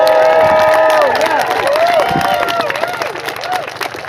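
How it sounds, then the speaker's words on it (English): Crowd at a ceasefire rally in Louisville, Kentucky claps and cheers loudly, with whoops and shouts rising over the applause before it gradually thins out. "let's give a round of applause and a shout for this amazing human who's coming to speak right now"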